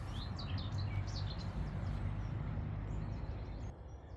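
Birds sing in the trees around a garden plot in mid-June, a scatter of small chirps and tweets over a low background rumble, fairly faint and fading slightly toward the end, with no voices.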